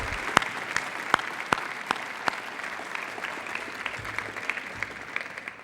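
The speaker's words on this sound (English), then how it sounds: "Please join me in giving them a round of applause." Audience applause at a college's 2011 State of the College address, a scattered, moderate round of clapping in a hall with a few sharper individual claps standing out.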